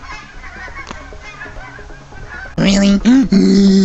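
Geese honk loudly and close in a rapid run of repeated calls, following a stretch of quieter background with a brief spoken question, outdoors on a mild New Year's day.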